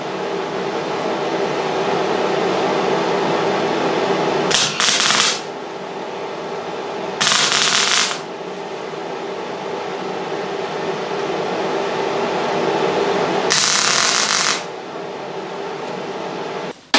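Three short crackling bursts of tack welding on a car's wiper panel, each about a second long, ring out over a steady mechanical hum, spaced unevenly and fairly loud.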